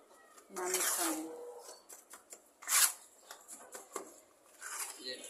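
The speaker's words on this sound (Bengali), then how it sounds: "সিমেন্ট বালু একসাথে মিক্স করে নিতেছি" Cement and sand being mixed by hand into mortar for bricklaying: gritty scraping and scooping bursts in an irregular rhythm, fairly close, with a sharper scrape partway through and someone speaking at moments.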